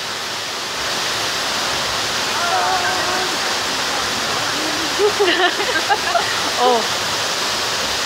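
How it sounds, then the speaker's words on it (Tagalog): Waterfall at Tai Tam rushing in a constant loud broadband roar, with voices talking briefly over it partway through. "Yan ang falls."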